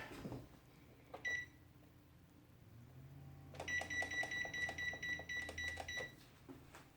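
Several short electronic beeps chime from an oven timer, a brief pair early and then a longer run of repeated tones, with kitchen clatter around them.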